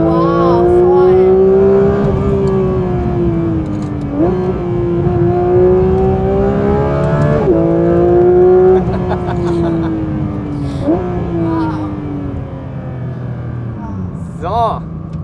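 A Porsche sports car cruises smoothly through a series of curves, its engine note rising and falling steadily with gear and throttle changes, loud and close from inside the cabin, with people talking over it.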